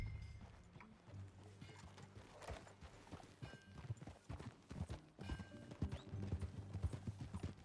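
Horse hooves clip-clopping steadily at a walk in the Red Dead Redemption 2 video game, rhythmic and fairly close, with low game ambience and a faint whinny-like tone underneath.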